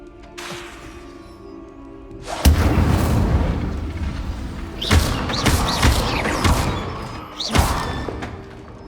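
Incendio fire spell cast in the Hogwarts Legacy video game: three loud, whooshing fiery blasts with deep thuds, each followed by a crackling rumble, over a low ambient hum.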